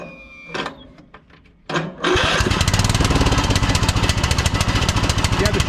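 A Troy-Bilt Pony lawn tractor with its old spark plug reinstalled and a replacement carburetor cranks in a few short bursts, then catches and runs, its small engine chugging loudly and steadily up close.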